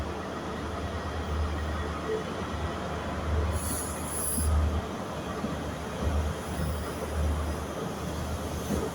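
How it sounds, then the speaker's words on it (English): A ScotRail HST pulling out of Glasgow Queen Street station, its wheels squealing in high-pitched bursts over a steady low rumble of rolling stock, moderately close and with no voices. "There goes that train."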